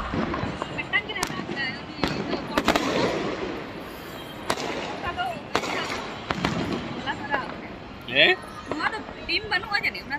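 A 100-shot fireworks cake fires at a New Year celebration in Hyderabad, sending rapid sharp cracks and bangs in an irregular volley that lasts the whole stretch. Crackling and distant pops mix in, with people's voices chattering underneath.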